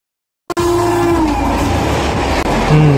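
A train rumbles past close and loud after a sudden onset, wheels clattering under a sustained horn blast that swells again near the end.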